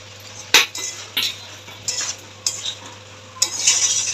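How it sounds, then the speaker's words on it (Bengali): Spices with turmeric, salt and tomato paste stir-fried in a pan, a spatula scraping and clanking against the metal in several separate strokes over a low, steady sizzle. "এবার ভালো করে কষাবো।"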